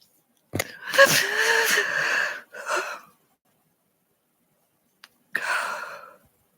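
A single sharp human sneeze bursts out with a gasping intake, followed by shorter breathy exhalations and a brief snort-like puff after a pause, close to the microphone in a quiet room.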